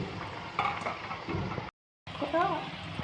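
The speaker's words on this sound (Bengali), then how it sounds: "দেখুন লাল লাল ভাজা হয়ে গেছে," Bhaja pithe frying in hot oil over medium heat, a steady close sizzle running throughout with a short silent gap midway, while someone talks over it.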